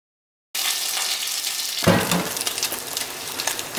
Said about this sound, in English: That's the sound of a good spam fry.